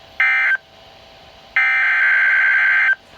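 Emergency weather alert tone for a severe thunderstorm warning sounding on a phone: a short loud electronic burst, a brief pause, then a longer sustained harsh tone, close and with no talking.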